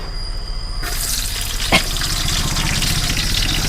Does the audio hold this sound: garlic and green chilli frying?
yes